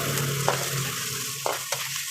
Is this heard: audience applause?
no